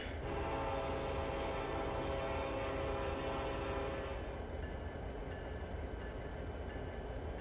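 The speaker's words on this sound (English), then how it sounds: "Alrighty, horn." A locomotive horn in Trainz Simulator 3 sounds one long, loud, multi-tone blast that cuts off after about four seconds, leaving a steady rumbling train running underneath.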